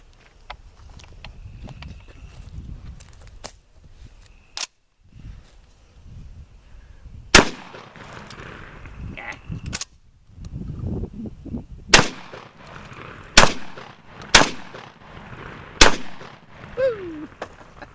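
Semi-automatic RIA VR80 tactical 12-gauge shotgun fired outdoors, a string of loud sharp blasts, some spaced and some in quick succession, with quieter handling noise and a voice in between.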